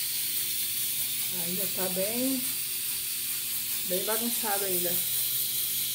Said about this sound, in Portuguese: O barulho aqui da panela, estou cozinhando feijão.